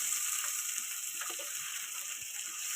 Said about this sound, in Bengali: সব কটা চিংড়ি দিয়ে ভালো করে নাড়াচাড়া করছি